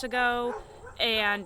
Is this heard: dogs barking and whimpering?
yes